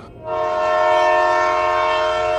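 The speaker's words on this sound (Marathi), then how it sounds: "तोच रेल्वेने हॉर्न दिला." A train horn sounds as a single loud, sustained tonal blast starting abruptly and holding steady to the end, close and alone.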